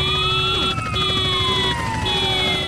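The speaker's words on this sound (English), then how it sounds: "you're controlling which type of siren plays once you press horn" Police siren from a car in the GTA Definitive Trilogy, triggered by pressing the horn: a loud, steady wailing tone sweeping up and down with layered electronic harmonics throughout, alone with no talk.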